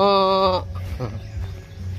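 A carabao (water buffalo) in rural Cabul-an, Capoocan, Leyte gives one loud, drawn-out tonal call at the start, then breaks off into quieter outdoor background with brief faint sounds.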